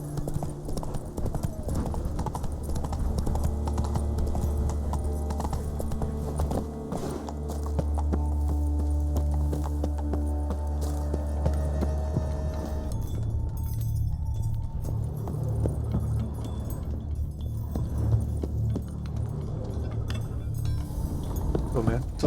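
Roach, Geralt's horse in The Witcher 3: Wild Hunt, clip-clops at a steady gallop through the game, loud rhythmic hoofbeats with occasional tack jingling while someone talks over the top throughout.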